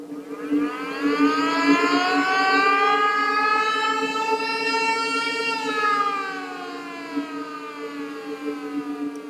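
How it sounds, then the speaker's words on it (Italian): A factory siren sounding the end of a work shift rises into a loud, sustained mechanical wail, holds, then winds down slowly in pitch, heard alone and fairly close. "Quando suona la sirena, finisce il turno di lavoro."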